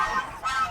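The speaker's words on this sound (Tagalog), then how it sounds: "Gansa." A goose on a Philippine hog farm gives a short, nasal honk nearby, followed by a second call, fairly faint against the surroundings.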